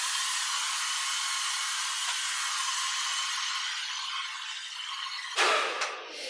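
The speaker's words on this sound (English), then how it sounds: "I'm gonna blow dry this a little bit more to dry it out" A hair dryer blows steadily on curly hair as it is dried out, a loud continuous whoosh that holds for several seconds before a brief clatter and shift near the end.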